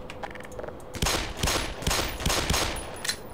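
Gunfire in the game Black Mesa as objects get shot apart, several loud sharp shots in quick bursts after a quieter start, with no talking.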